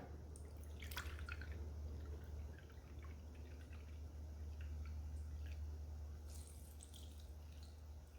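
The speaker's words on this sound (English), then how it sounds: "That milk sounds so soothing." Lactose-free milk is poured into a bowl for bread pudding, a faint, steady liquid trickle with small drips and splashes, quiet and close throughout with no talking.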